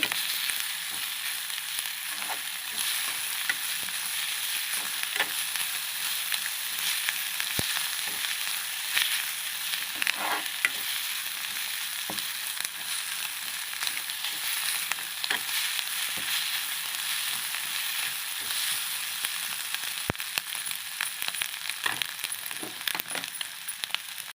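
Egg curry fries in a pan over a low flame with a steady, close crackling sizzle throughout, broken by occasional light clinks and scrapes as it is stirred.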